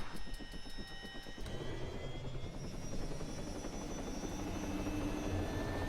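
Aircraft engine in the video game Project Absolution, a steady loud rotor-like drone with a rhythmic chop that runs continuously for several seconds, mixed with a high whine.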